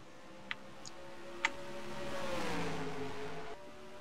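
Stock car engines roaring around Rockingham in a racing video game, a steady droning pack of motors rising and falling in pitch as cars pass, with a few sharp clicks early on and no talk.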